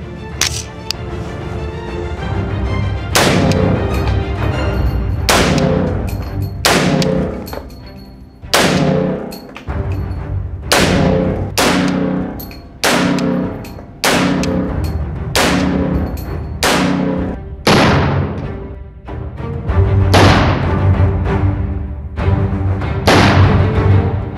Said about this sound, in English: We're just going to shoot it like this.